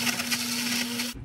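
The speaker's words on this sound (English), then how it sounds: "And I'm gonna blend." A blender whirs steadily as it blends ginger with water, a loud continuous motor hum with a strong steady tone that cuts off abruptly near the end.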